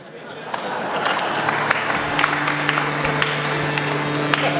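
A kirtan audience applauds together in steady, dense clapping that runs the whole time, with sharp individual claps standing out over a low sustained hum.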